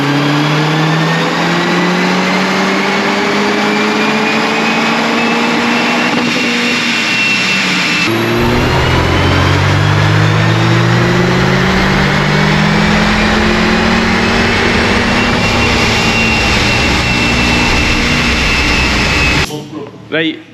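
Mercedes A45 S engine on a dyno during a power run, a loud sustained roar climbing in pitch through the gears with a shift midway, then cutting off abruptly at the end.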